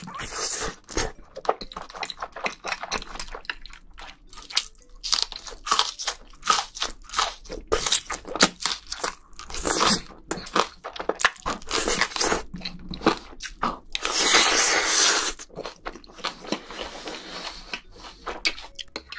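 Close, loud crunching and chewing of homemade jjajangmyeon black bean noodles, eaten alongside bunmoja glass noodles, green onion kimchi and whole Spam, with rapid irregular bites and slurps running throughout and no talking.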